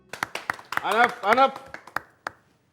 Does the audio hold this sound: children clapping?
yes